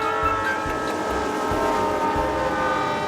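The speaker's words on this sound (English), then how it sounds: "The Z-scale train may be small, but it's proof that a little can go a long way." Z-scale 1:220 model train running on a layout, a steady mechanical whir with a soft rhythmic clicking of the wheels over the track, close and continuous.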